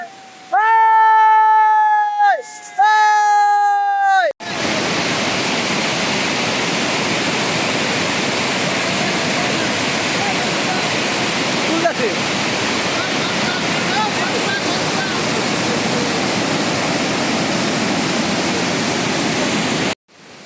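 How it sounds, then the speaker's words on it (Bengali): Ruposhi waterfall on the Kamaldaha trail in Bangladesh, heard close up: a brief tonal, melodic sound gives way to a loud, steady, unbroken roar of falling water that fills the rest of the clip. "আমি একেবারে ঝর্ণার কাছে চলে আসছি"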